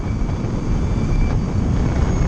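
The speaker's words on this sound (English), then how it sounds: "You guys can hear the motor and the reduction gear." The electric motor and reduction gear of a Lightning Strike electric motorcycle whine steadily, a jet-like tone heard during a test ride under heavy, constant wind rumble.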